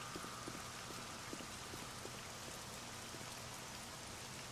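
Steady rain falls in the survival game 7 Days to Die, a continuous dense patter of drops on surfaces with scattered louder splashes, fairly quiet and unbroken, with no voices.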